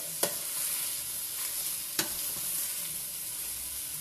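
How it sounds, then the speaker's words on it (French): Chorizo stirred into a cooking pot with ham, a soft steady frying sizzle broken by two or three sharp scrapes of a spoon against the pot, close up and without talk. "Vous ajoutez le chorizo. Voilà, vous mélangez."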